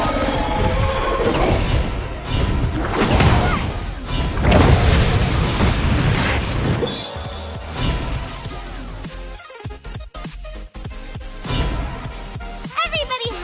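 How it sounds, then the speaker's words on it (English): Heavy booms and crashing impacts as a turret is destroyed in the mobile battle game Honor of Kings, loud and dense over busy game sound, with talk running through. "Your team has destroyed a turret."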